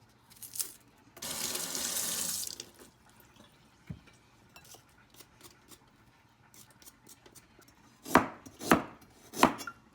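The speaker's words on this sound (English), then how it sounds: "Cutting the vegetable." Vegetables being cut on a board while preparing chicken with mushroom, with a burst of running tap water early on and a few scattered knife taps, then three loud, close chopping strokes near the end, with no voices.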